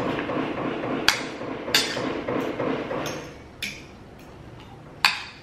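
Hammer blows ring out from house construction going on just behind a home in the Philippines, sharp metallic strikes landing irregularly about once a second over a dull background murmur.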